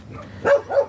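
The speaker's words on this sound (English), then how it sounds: "that's my dog Grunty." A dog barks twice in quick succession outdoors, two short, fairly loud yaps close to the microphone with no talking.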